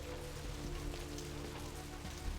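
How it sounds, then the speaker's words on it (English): Steady rain falls in Vampire the Masquerade: Bloodlines, a continuous, even patter on surfaces that carries through the whole stretch with no one talking. "I love the rain."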